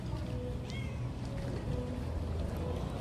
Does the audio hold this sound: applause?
no